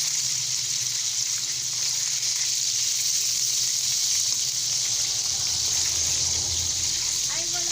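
Pork adobo frying in a pan, a continuous hissing sizzle, close and steady throughout, with a voice talking over it.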